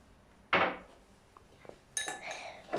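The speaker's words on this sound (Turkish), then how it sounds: "Azıcık burada da karıştıralım" Homemade slime being stirred in a bowl, giving a few separate close scraping and clinking strokes with quiet gaps between them.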